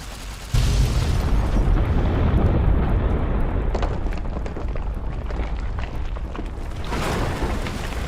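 A deep, booming explosion from Fallout: New Vegas bursts in after a brief lull, then trails into a long, heavy rumble that stays loud for several seconds.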